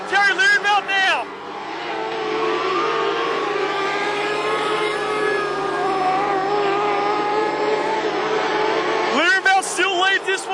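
Modlites race cars at Carina Speedway scream past close by, engines rising and falling in pitch as they pass, then a sustained high engine roar carries under an excited commentator's voice throughout.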